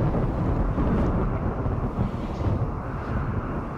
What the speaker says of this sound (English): dry thunderstorm really won't be too bad